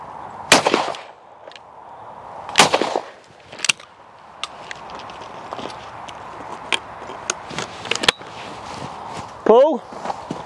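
A few sharp, loud gunshots crack out at spaced intervals, followed by fainter clicks and knocks, with voices talking in between.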